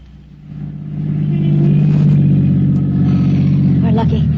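A car engine hums in an old radio drama, swelling from quiet to a steady, close rumble and then idling on, with voices speaking over it.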